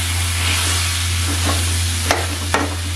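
Khoya being stirred into carrot halwa in a pan, a steady soft sizzle and scraping from close by with a few sharp spoon knocks against the pan near the end, no talk.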